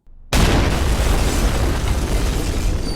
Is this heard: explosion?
yes